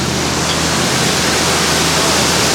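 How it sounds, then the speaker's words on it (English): Waterfall on the Jungle Cruise ride at Magic Kingdom, a loud, steady rushing roar of falling water filling the clip without pause. "Looks like the only way out is under that waterfall."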